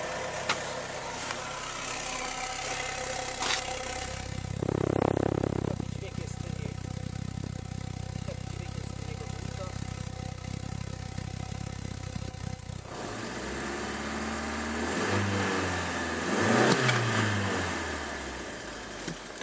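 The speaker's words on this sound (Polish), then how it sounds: "teraz praktycznie słychać tylko silnik sam, a tu jest cisza" An Opel Vectra A 1.8 petrol engine idles with a steady low rumble, then revs up and settles several times; a voice talks faintly over it.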